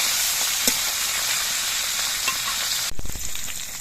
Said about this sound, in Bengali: আমি হালকাভাবে মাছগুলো ভেজে নেব